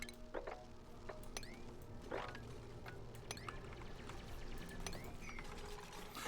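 Liquid drains through pipes in the colony-building game Oxygen Not Included, with faint, steady pouring and gurgling trickles and scattered small blips, low-level throughout.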